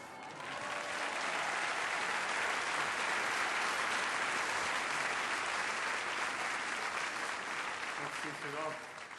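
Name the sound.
audience applause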